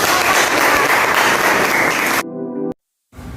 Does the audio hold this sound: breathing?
no